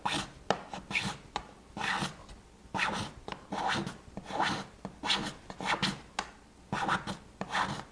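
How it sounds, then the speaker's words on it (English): Card scraper drawn in repeated short strokes across a wooden chisel cabinet to take off leftover material around a knot, a close, rhythmic series of dry rasping scrapes with brief pauses between them. "I can move over to my card scraper and just remove the rest of it"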